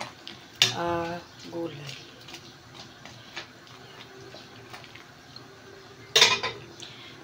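A spoon clinks and scrapes inside a pot of homemade sinigang na pata with vegetables and chili. Light taps scatter throughout, and a louder clatter comes near the end, while someone speaks briefly near the start.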